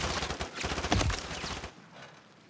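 Rapid gunfire from Call of Duty: Modern Warfare 3 rattles in a dense, loud burst of overlapping shots, then drops off abruptly to quiet after about a second and a half.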